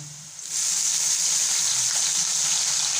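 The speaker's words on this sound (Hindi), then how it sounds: "अब इसके अंदर मैं शामिल करूंगा अदरक लहसुन का पेस्ट और थोड़ा सा पानी शामिल करूंगा" Water and ginger garlic paste hit browned onions in a cooking pot for matar pulao, a sudden steady hiss and gush starting half a second in and holding loudly to the end.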